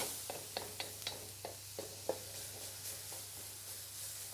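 Thinly shredded cabbage cooks in a pan for yakisoba, giving a soft, quiet sizzle broken by a series of sharp clicks and scrapes as it is stirred, close and with no talking.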